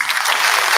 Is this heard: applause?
yes